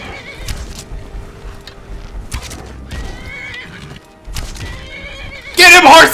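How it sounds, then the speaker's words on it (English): In the video game Skyrim, a horse neighs and hooves clop through scattered fighting sounds, closing with a sudden loud, harsh whinny. "And I have a horse helping me now."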